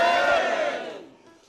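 An audience at a live Indonesian comedy stage show raises a loud burst of cheers and shouts that fades out within about a second.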